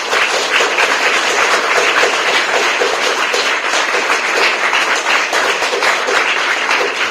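Loud, dense applause from an audience at a church gathering, continuous and steady throughout with no pauses, many hands clapping at once close by.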